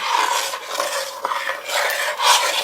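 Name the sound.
stirring strawberry jam with sugar in a pot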